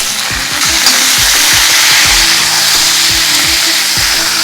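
Chopped tomatoes fry in oil in a pan for a tomato coriander chutney, giving a loud, steady sizzle with repeated clicks and scrapes of stirring throughout.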